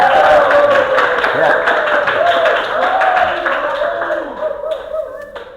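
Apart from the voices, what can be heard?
audience clapping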